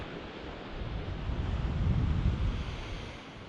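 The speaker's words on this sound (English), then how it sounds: "There's my ocean." Ocean waves on an Alaskan shore: a continuous broad rushing wash that swells slightly in the middle, mixed with wind noise, with no voices.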